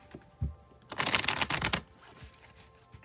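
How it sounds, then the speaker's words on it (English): A tarot card deck being shuffled close by, a burst of riffling and flicking that swells for about a second, with a few soft taps of the cards before and after, no talking. "I'll shuffle till I feel like the deck is about ready"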